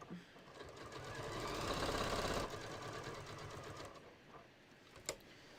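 A sewing machine stitches a beach tote bag, its motor running in a steady mechanical rattle that builds to a loud burst, then slows and stops, followed by a faint click near the end.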